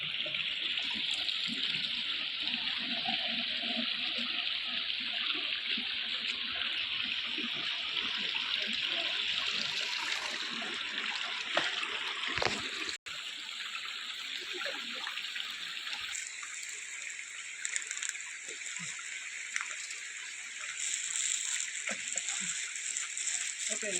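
Water flows steadily down a rocky hillside at Udayagiri, a dense, continuous rushing close by that stays loud throughout, with faint voices in the background.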